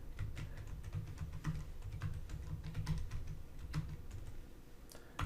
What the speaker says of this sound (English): let's make sure it's not displaying the password that I'm typing